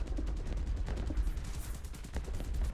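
A Hurricane fighter fires its 20mm cannons at a Heinkel He 111 in War Thunder, producing a dense, continuous rattle of rapid shots under steady engine roar, with no talk.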